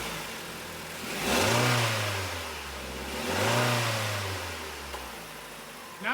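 A car engine running with Pepsi in place of coolant idles and is revved twice, each rev rising into a sweeping roar and falling back to a rough, steady idle, close and fairly loud.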